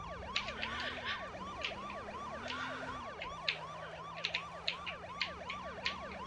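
A GTA 5 police siren wails in fast, repeating up-and-down sweeps over a steady low engine drone, loud and continuous.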